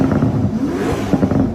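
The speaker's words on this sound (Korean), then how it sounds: "다만 공개된 배기음을 들어보면" Exhaust note of the Toyota GR GT sports car, successor to the LFA, with the engine revving in rising and falling tones, loud and close, no voices over it.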